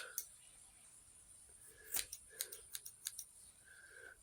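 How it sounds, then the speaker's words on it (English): Scissors snipping apart the ends of yarn while making a small pom-pom bunny, a quick series of soft close clicks and snips in a quiet room, with faint voice murmurs around them. "you're just going to go and cut the ends apart"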